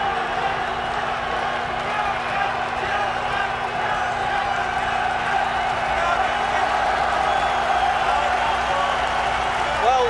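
A boxing crowd at a 1971 heavyweight bout featuring Jürgen Blin keeps up a steady wash of cheering and applause, loud and sustained throughout with no break, voices of the audience mingling with clapping.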